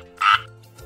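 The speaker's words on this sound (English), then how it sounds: "F is for frog." A single short frog croak, clear and close, over a quiet background.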